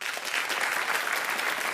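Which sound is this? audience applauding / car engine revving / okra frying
audience applauding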